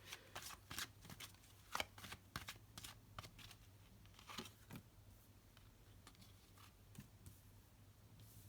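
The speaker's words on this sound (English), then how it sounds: "I'm going to deal the cards and then I'll talk to you." Tarot cards being shuffled and dealt at close range: quiet, irregular riffling bursts and soft slaps of cards laid down, faint and intimate, with no talk.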